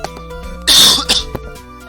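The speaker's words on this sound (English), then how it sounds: "So I have to cough." A single harsh cough close to the mic, followed by a brief throaty rasp, against a quiet background hum.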